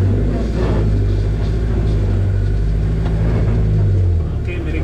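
Suzuki Jimny engine running off-road, a loud, steady low rumble with a slight swell in revs and a drop near the end, close to the listener.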